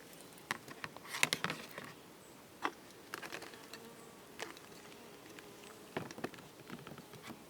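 Honey bees during a hive inspection, with scattered buzzing passes of individual insects close by, intermittent and varying in loudness against quiet background rustling.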